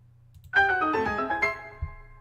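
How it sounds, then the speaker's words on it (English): A short bright chime-like jingle from the game Xenoblade 2 rings out, a cluster of bell tones that sustains and fades, with a quiet low hum beneath. "That is the sound of unlocking this sentence"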